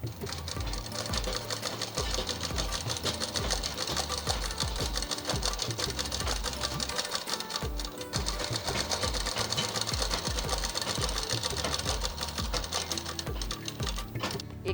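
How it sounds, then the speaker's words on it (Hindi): A sewing machine stitches a fitting seam on a blouse, running fast and continuously with a dense, even mechanical rattle throughout, close and loud. "अब इसकी फिटिंग सिलाई करेंगे।"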